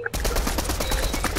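Rapid bursts of gunfire crackle steadily through a multiplayer shooter match, dense and fairly close, with a voice faintly underneath.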